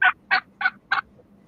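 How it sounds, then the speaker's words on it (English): A turkey gives four loud, close, evenly spaced gobbling calls in quick succession, each a short rattling burst, with nothing else heard. "There's one of the female turkeys right here."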